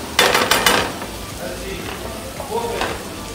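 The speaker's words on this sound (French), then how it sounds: "Je remue le tout" Chopped parsley stirred in a frying pan with a fish dish, giving a few quick scraping strokes and a soft sizzle, with scattered light clinks as a voice talks over it.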